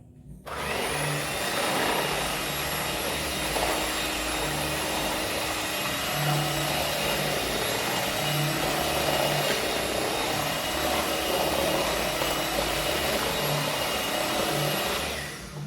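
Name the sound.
electric mixer mixing carrot cake batter with oil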